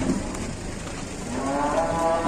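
Large jumbo cattle low in a long, drawn-out moo over a steady wash of outdoor noise, the call swelling toward the end.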